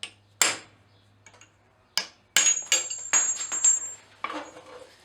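A hammer strikes a metal rosette rivet held in a vice, giving sharp, bright metallic clinks: a few spaced single blows, then a quicker run of hits with ringing tails, close up.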